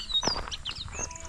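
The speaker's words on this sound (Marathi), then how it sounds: "चिमण्यांचा चिवचिवाट" Sparrows chirp in short, high, repeated tweets, near and fairly clear, at a village by a river with brief bird calls overlapping through the moment.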